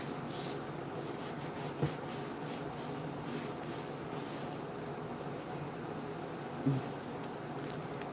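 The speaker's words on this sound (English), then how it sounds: "rub that bubble out" Close, quiet scratchy rubbing as a thumbnail presses a bubble out of a craft surface, a continuous soft friction texture with a couple of small knocks along the way.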